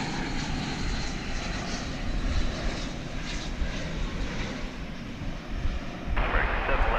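An airliner taxiing at DFW International Airport, a continuous engine rumble and whine heard from a distance, with voices talking over it.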